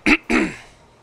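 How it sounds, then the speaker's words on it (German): A person clears their throat twice, close to the microphone: a short harsh burst, a brief pause, then a longer rasping one that trails off. It happens during German gaming chat in Minecraft. "Nein, ich habe mich geräuspert, nicht du."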